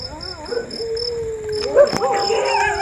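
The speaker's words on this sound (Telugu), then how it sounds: "కుక్కలు కూడా మొదలు పెట్టినాయి." Dogs howl and whine in drawn-out rising and falling tones, with a sharper yelp near the end over faint background chirps.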